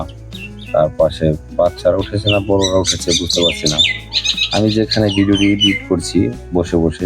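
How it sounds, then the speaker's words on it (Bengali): Myna and other birds calling near a riverside ghat, chirps and squawks mixed under someone talking steadily and close. "সেখানে শালিক ডাকছে, পাখি ডাকছে, বিশেষ করে ময়না পাখি"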